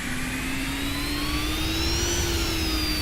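A Cessna Citation Mustang jet in Microsoft Flight Simulator, with a steady engine whine and rising turbine tones over a constant broadband rumble, heard alone and without talk.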